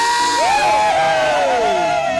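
A church congregation at an Easter service in Kitengela cheers and ululates together, high trilling voices rising and sliding over a loud, continuous crowd roar.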